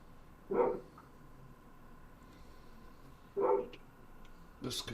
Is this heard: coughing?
no